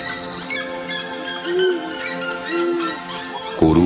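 An owl calls in the Pantanal wetlands of Mato Grosso, giving a couple of short, low hoots over a steady tonal background bed.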